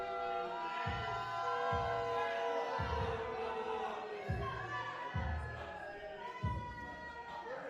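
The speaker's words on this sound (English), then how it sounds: "Everybody's booing them." A wrestling crowd at an RDW Open Weight Championship match fills the air with a steady, loud roar of disapproval, with rhythmic low thumps pulsing underneath roughly every second.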